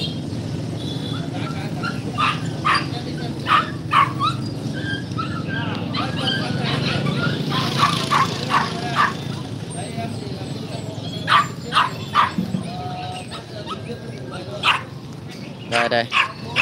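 Dogs bark and yip intermittently at the Bắc Hà dog market, scattered short barks over a steady crowd murmur while people talk nearby.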